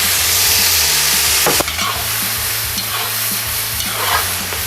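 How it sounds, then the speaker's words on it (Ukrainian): Carrots and onions sizzle steadily in a hot pan with a constant crackling hiss, while a utensil occasionally scrapes and stirs through them. "Морква з цибулою смажиться 5 хвилин"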